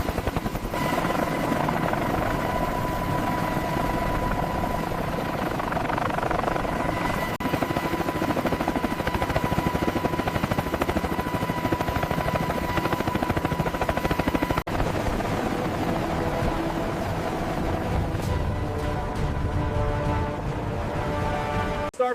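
A helicopter hovers while lifting a wrecked AH-64 Apache by cable. Its loud, steady rotor and engine roar runs unbroken and close throughout, with no voices over it.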